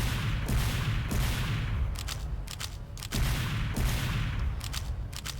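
Six scattergun blasts fired in Team Fortress 2, evenly spaced sharp bursts with a reload clatter between them, loud over a dense, continuous game background roar.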